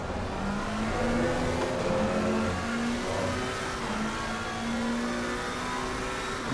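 Racing car engine in a racing video game revving hard and steadily, a loud continuous drone with rising and falling pitch as the car runs in a packed grid with a faster car close behind.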